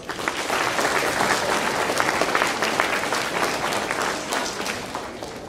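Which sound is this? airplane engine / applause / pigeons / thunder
applause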